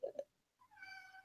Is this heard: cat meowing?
yes